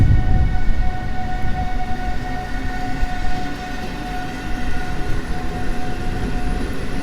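A PKP Intercity Kujawiak passenger train of seven coaches pulls away from Warszawa Zachodnia with a loud, steady rumble of wheels and traction, overlaid by sustained high tonal whines.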